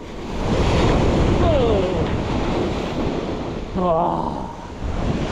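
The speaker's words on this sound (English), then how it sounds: "it was just the waves crashing on my line" Ocean waves break on the shore at night as a light breeze blows, a steady broad wash of surf with wind buffeting the microphone; a voice briefly exclaims over it.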